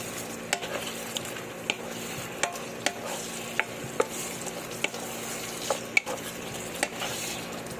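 Shrimp fry in oyster sauce in a home pan while a utensil stirs them, with a soft continuous sizzle punctuated by regular light scrapes and clinks against the pan, close and steady.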